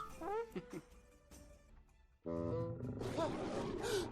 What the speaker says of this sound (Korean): 사자들이 으르렁거리며